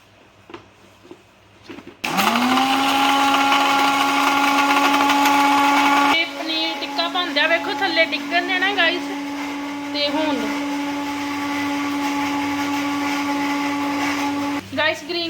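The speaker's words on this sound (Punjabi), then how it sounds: "ਹੁਣ ਮਿਕਸੀ ਗ੍ਰੈਂਡ ਲੱਗੀ ਮੰਮੀ ਕਰਨ ਹਰੀ ਚਟਨੀ ਦਾ" A kitchen mixer grinder whirs loudly as it blends green chutney, a steady motor drone that starts abruptly, runs for about twelve seconds with shifting load, and cuts off near the end while voices talk over it.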